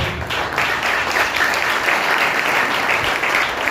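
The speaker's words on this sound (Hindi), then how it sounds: "से ताली बजाएं प्रभु यीशु मसीह के लिए" A large audience at a church service claps steadily and continuously, a dense, even wash of applause with no voices standing out.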